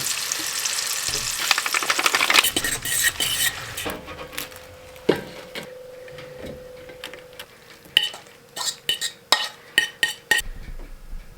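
Ham steaks fry in a pan in a cold cabin: a loud hiss at first, then quieter crackling broken by sharp clinks and scrapes of a utensil against the pan.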